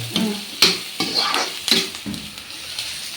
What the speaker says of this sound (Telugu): ఉల్లిగడ్డ అయితే బాగా మగ్గాలి